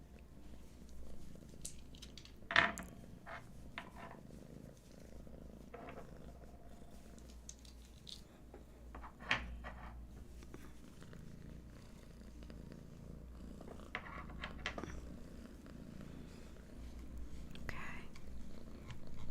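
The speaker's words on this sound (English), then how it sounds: "And you might hear some purring." A cat purrs softly and close by in a quiet room, a low continuous rumble with a few soft clicks and rustles scattered over it, and a hushed voice at times.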